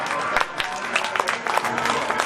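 Audience applause following a Hindi poetry recital, a dense, steady patter of many hands clapping throughout, moderately loud and close, with crowd noise mixed in.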